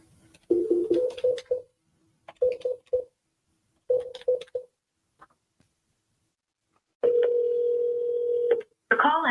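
A telephone call, with bursts of ringing or dial tones in repeated short groups, then one longer steady tone near the end, loud and close with brief gaps of silence between them.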